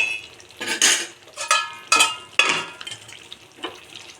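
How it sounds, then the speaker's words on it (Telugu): A bowl of water set onto the lid of a pan cooking gongura chicken gives a few close clanks and scrapes of metal, with a soft sizzle underneath. "ఒక గిన్నెలో వాటర్ పోసుకొని దీనిపైన పెడుతున్నాను"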